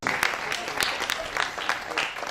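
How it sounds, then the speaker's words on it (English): An audience at a management lecture breaks into a brief round of applause, a dense wash of many hands clapping at once, steady and moderately loud. "I think that deserves a round of applause."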